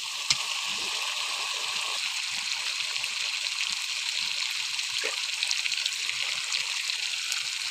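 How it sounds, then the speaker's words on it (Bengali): Hot water poured into a pot of duck meat curry, a steady continuous gush and splash of liquid with no voices. "তো আমি ঝোলে গরম জল দিয়ে দেবো।"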